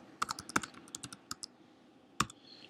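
Keys clack on a computer keyboard, a quick burst of close, irregular taps and then a short pause before a single firmer keystroke.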